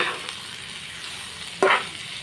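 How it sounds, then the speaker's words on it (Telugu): Beetroot frying in oil with coriander powder and kasuri methi, a steady soft sizzle throughout that swells into a brief louder hiss near the end. "చూసారా ఆయిల్ ఎంత మంచిగా ఫ్రై అయిపోతుందో."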